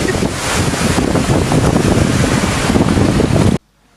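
Strong wind and high waves at Sanur Beach, Bali: a loud, continuous roar of surf with heavy wind buffeting the microphone, then a sudden cut to near silence at the end.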